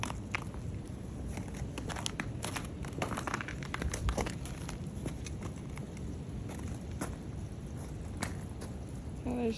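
Footsteps crunch over broken icicles beside a frozen waterfall at Fonferek Glen, Wisconsin, with a series of close, crisp crackling steps and brittle ice fragments snapping underfoot.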